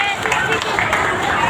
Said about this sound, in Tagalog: Isang palakpak naman para kay Sir Flor dyan.